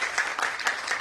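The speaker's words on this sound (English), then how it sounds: "Sir, a big round of applause." Audience clapping for a speaker at a youth medical conference, a short, steady patter of many hands at moderate volume with no voices.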